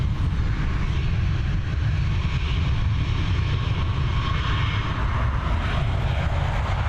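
Airliner departing Dublin Airport for Palma, a loud, steady jet engine roar with broad rumbling low end and a faint rising whine, continuous without talk.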